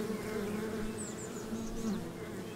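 A dense, steady hum of many honeybees buzzing around honeycombs during a robbing frenzy, with individual bees whining past close by.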